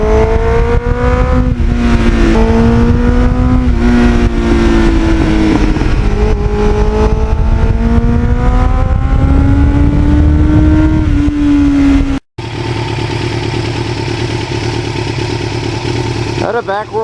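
A Kawasaki Ninja motorcycle with lowered forks rides along back roads, its engine droning loud and close, pitch rising and falling through gear changes, before a brief cut to steadier wind-buffeted riding.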